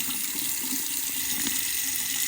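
Water runs steadily from a newly installed Moen faucet into a sink, a constant close hiss and splash with no pauses and no voices.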